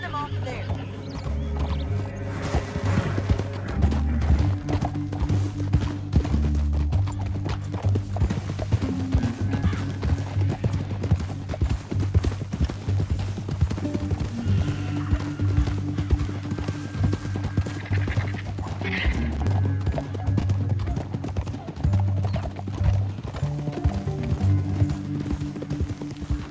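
Horses gallop in Red Dead Redemption 2, hooves clip-clopping in a steady, fairly loud rhythm that runs throughout, with voices talking over the hoofbeats at times.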